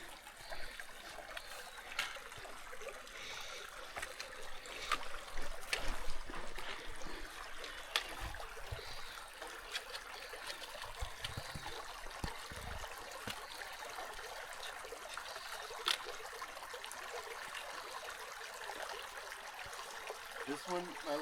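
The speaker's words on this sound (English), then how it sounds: "Just came up onto our first of several water crossings today." Quiet, steady trickle and burble of a small stream at a hiking trail water crossing on the Centennial Trail, running continuously at a faint level with occasional louder splashes and knocks.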